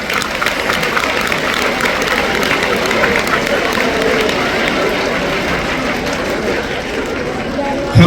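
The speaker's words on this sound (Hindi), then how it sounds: "अपने लिए ताली बजा के दिखाओ।" Schoolchildren at a school seminar clapping for themselves, a steady broad wash of many hands applauding throughout, loud and continuous, with crowd voices blended in.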